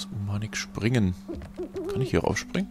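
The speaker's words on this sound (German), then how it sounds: "oh, da ist eine Eule." An owl in a video game gives low, steady hoots that sit under someone talking over them, the hooting faint and partly masked by his voice.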